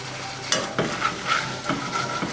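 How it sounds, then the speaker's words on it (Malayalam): Crushed garlic and curry leaves frying in oil and being stirred with peanuts in a pan for masala peanuts, a steady sizzle broken by several sharp scraping stirs, close by and without talk. "കുറച്ച് വെളുത്തുള്ളി ചതച്ചതും കറിവേപ്പില കൂടി വറുത്തെടുത്ത് ഇതിലേക്കിട്ട് ഒന്ന് ഇളക്കി യോജിപ്പിച്ചെടുക്കുമ്പോഴാണ്"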